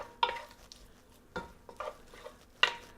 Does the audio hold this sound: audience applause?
no